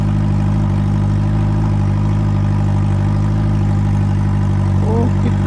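A 2025 Hayabusa drag bike engine idles steadily and loudly throughout, a constant deep mechanical drone with a brief faint higher whine near the end.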